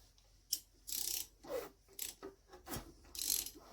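Seized two-stroke engine of a Kawasaki KDX 200 turned over by hand, giving close, quiet ratcheting and scraping mechanical clicks that catch and break free in short irregular bursts, with no talking.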